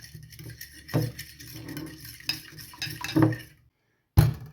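Eggs with spring onion and other ingredients are mixed in a bowl for a breakfast omelette, with irregular utensil clinks and scrapes against the bowl, close and fairly quiet, ending in one sharp knock.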